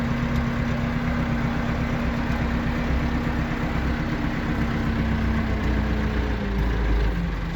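A tractor engine runs steadily at close range on a farm during fertilizer spreading ahead of maize planting, giving a continuous low idling rumble with a constant hum and no pauses or voices.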